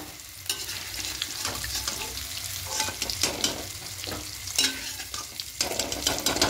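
Boiled, cut potato pieces fry in hot oil in a pan, a steady close sizzle broken by repeated scraping and stirring strokes, with no voices.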